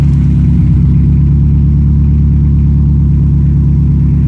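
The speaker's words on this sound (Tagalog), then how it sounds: "So, pakinggan natin yung exhaust." A car exhaust rumbles steadily at close range, a deep, loud, even drone with a slight rise at the start and no voices over it.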